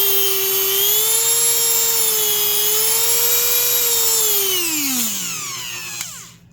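A Dremel 4000 rotary tool runs at about 15,000 RPM with a steady, bright, high whine and airy rush. After several seconds it winds down in pitch and fades out, heard up close with no talking.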